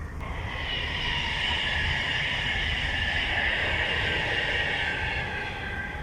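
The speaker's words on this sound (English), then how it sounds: "Bloody trains." A train rumbling past a canal boat, a continuous steady roar with a high metallic hum, sustained at even volume throughout, no voices.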